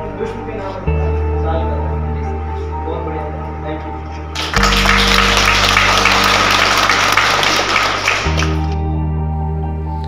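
Audience applause welcomes frontline health workers at an official COVID-19 event in Alwar, a dense burst of clapping lasting several seconds over background music, with narration speaking alongside.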